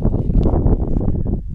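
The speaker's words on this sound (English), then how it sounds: "Sorry about the wind." Loud, low buffeting wind rumbles against the microphone throughout, a continuous blustery roar.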